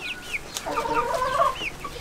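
Hens and a rooster cluck in a 200-year-old henhouse, with a steady flow of close, overlapping chicken clucks and short calls running through the whole stretch.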